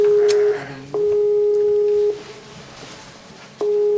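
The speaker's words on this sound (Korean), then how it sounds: "한국에 있는 사이다의 언니 호시니다와 화상 전화 연결을 시도한다." A video call connection tone rings on a phone in repeated steady beeping tones separated by short pauses, loud and close.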